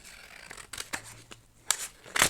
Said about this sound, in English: I know I can do damage with scissors